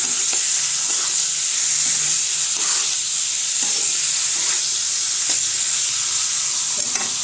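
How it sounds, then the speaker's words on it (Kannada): A garlic chicken dry fry sizzles steadily in a pan, a loud continuous hiss with soft, regular scrapes of stirring underneath, close up and without talk. "ಕೈ ಆಡಿಸ್ಕೊತಾ ಇದ್ದೀನಿ"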